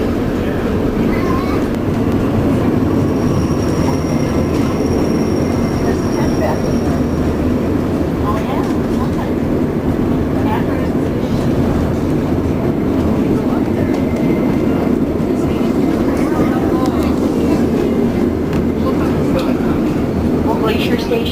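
Steady rumble and rattle of a train rolling along tracks near Glacier Station, Alaska, continuous and fairly close, with voices talking faintly underneath.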